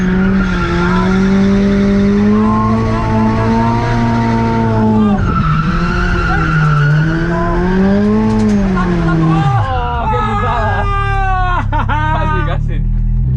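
A car drifting through a turn, its tires skidding and squealing in long wavering screeches over a loud engine, the pitch sliding and rising before breaking into a rougher chirping skid near the end.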